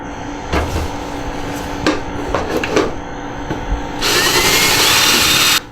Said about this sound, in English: I'm going to use a hole saw today, and just regular old cordless drill works